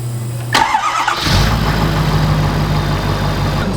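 A Ford 6.7 Powerstroke diesel cranks and catches, then settles into a loud, steady, low idle close by.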